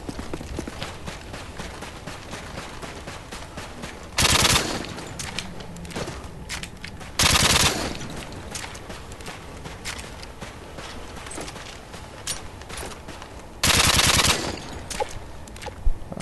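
Rapid weapon fire in Call of Duty: Modern Warfare 2 multiplayer comes in three short, loud bursts of fast automatic shots over quieter background game sounds and scattered clatter.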